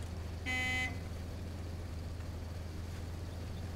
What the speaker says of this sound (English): what's the horn sound like on this?